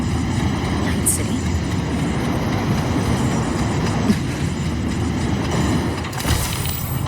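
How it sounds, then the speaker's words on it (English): A Night City train in the game Wuthering Waves rolls past with a steady, loud, low rumble and faint rail clatter throughout, with no break. "What's a Night City train doing behind a door?"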